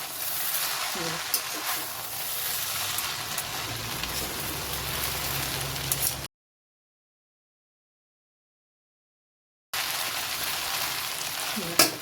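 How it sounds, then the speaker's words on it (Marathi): Hakka noodles stir-fry on a high gas flame with a dense, continuous sizzle and occasional scraping of the pan, steady and close, broken by a stretch of complete silence. "परत असे मस्त मिक्स करून घ्यायचे. आणि गॅस फुल केला आहे मी आता."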